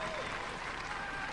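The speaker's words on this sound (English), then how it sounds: "Give them a round of applause, ladies and gentlemen." A Robot Wars studio audience claps briefly and evenly, the applause sounding dense but fairly quiet and distant.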